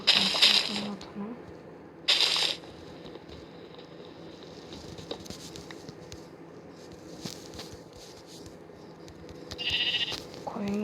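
Synthetic-sounding sheep bleats in Minecraft, a few short bursts spaced apart over a quiet hum, with faint clicks between them.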